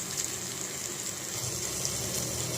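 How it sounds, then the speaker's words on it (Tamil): Masala spices sizzle in a pan over low heat while making mullu murungai rasam. The frying is a soft, steady hiss and crackle with no talk. "சிம்மில் வச்சுட்டு மசாலா வந்து வதக்கிங்க"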